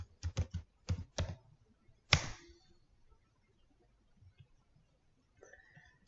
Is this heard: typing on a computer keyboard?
yes